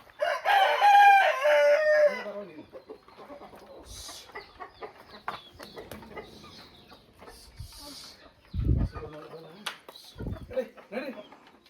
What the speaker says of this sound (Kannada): ಅವೆಲ್ಲ ಕೋಳಿಗಳು ಎದ್ರುಕೊಂಬಿಟ್ಟು